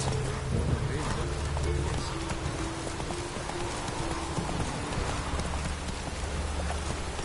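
A horse gallops in the video game The Witcher 3, its steady, rapid hoofbeats running continuously under a constant hiss of rain, with some voice-like game sound mixed in.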